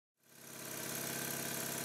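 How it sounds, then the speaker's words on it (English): A Stuart triple expansion model steam engine, running on only its high-pressure first cylinder, starts from silence and quickly builds to a steady, close, rapid rhythmic chuffing that stays even and loud. "I ran the engine for a while in both directions, and it still worked okay"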